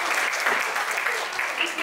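An audience applauds a guest speaker at an afternoon talk, steady dense clapping throughout, loud and continuous without a break.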